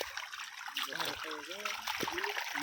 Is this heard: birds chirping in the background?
no